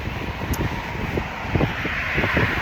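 Strong wind blows outdoors on a cold Massachusetts morning, buffeting the microphone with a continuous broadband rush and low rumbling gusts that rise toward the end.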